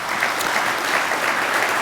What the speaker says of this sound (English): So one more round of applause for the programming committee.